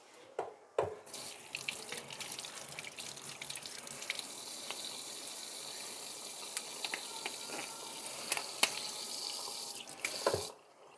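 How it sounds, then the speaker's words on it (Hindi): Tap water runs steadily into a kitchen sink during handwashing while cooking, a continuous splashing rush with small drips and clinks, starting and stopping abruptly, with no talk over it. "और मैं हाथ पहले ये धो लूँ।"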